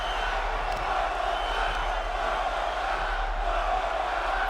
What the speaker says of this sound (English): The crowd is a sick sons of bitches, Joker.